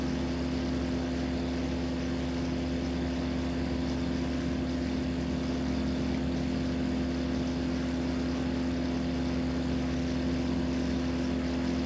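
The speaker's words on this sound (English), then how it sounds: "yeah, this plane sounds really good too" A Kitbox light aircraft engine in a flight simulator, droning steadily at constant pitch for the whole stretch, loud and close with no voices.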